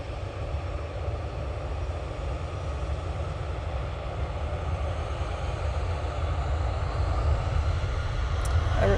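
Loganair propeller aircraft at Manchester Airport, a continuous engine drone with low rumble that grows slightly louder toward the end, heard alone without voices.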